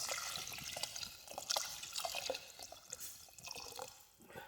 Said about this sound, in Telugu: ఇప్పుడు మంచినీళ్ళు పోసుకుందాం.